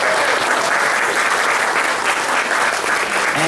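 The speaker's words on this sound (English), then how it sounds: "So let's give a round of applause for that." Steady, dense applause from an audience at a seniors' Christmas tea, sustained and fairly loud throughout with no pauses.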